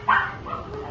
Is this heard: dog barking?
yes